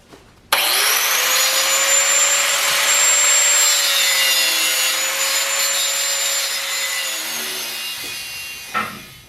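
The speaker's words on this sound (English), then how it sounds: "we're basically just got to cut some welds here and grind it up" An angle grinder cuts through welds and grinds metal plate on a go-kart frame, a loud, sustained high-pitched whine up close that starts abruptly, drifts slightly in pitch, then spins down near the end.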